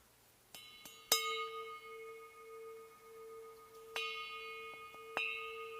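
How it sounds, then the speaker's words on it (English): A small bell rings several times with bright, lingering metallic tones, struck at irregular intervals against a quiet background. "Here's the bell that I bought."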